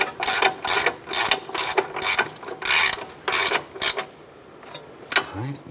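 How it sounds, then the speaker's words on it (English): Ratchet with a 17 mm socket snugging the upper ball joint nuts on a 2008-2012 Honda Accord, loud close clicking in repeated bursts of quick strokes with short pauses between, no talking. "Let's go ahead and snug our upper ball joint nuts. We're using a 17 millimeter socket to this."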